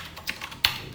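A few separate keystrokes on a computer keyboard while Python code is typed, with a sharper, louder key press near the end. The clicks are close and quiet, with no talking.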